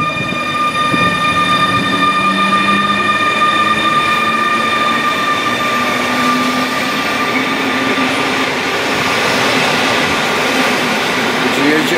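Empty train rolling through Łowicz Główny station in Poland, a loud continuous rumble with steady high whining tones and occasional wheel squeal, heard close up throughout.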